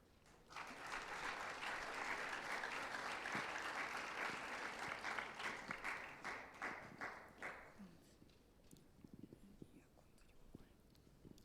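Audience applause at an IPSF World Congress 2019 ceremony in Kigali, dense clapping for several seconds that thins into scattered claps and fades, with faint murmuring underneath.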